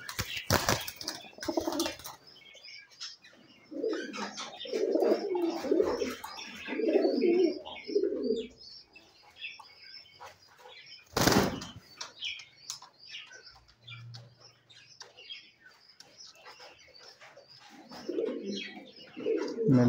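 Lakkha fantail pigeons cooing in a coop, several soft low coos in bursts with a few sharp chirps and brief wing flaps between them.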